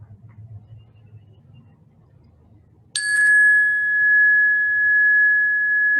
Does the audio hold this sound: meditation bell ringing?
yes